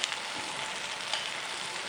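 Fried okra being stirred into a spice mix in a pan, with a steady, dense sizzle of hot oil throughout and faint scraping underneath, no voices.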